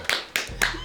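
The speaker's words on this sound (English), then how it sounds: "Let's everybody clap." Three sharp, close claps at the opening of a talk show, evenly spaced over less than a second, with a voice speaking over them.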